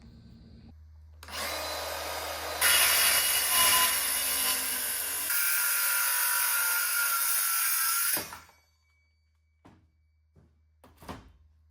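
Steel radius arms for a Suburban solid axle swap being cut to length with a power tool: a loud, sustained whining grind with a pitch shift midway, stopping abruptly, followed by a few faint clanks and handling noises.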